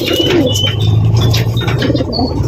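Racing pigeons cooing softly amid a busy backdrop of chirping birds and the occasional flutter of wings, steady and close by.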